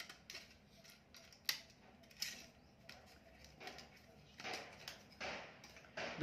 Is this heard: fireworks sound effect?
no